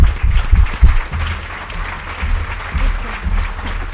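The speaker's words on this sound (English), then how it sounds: "we'll give a round of applause to all of our winners again." A burst of clapping from a crowd, brief and moderately loud, fading into scattered claps.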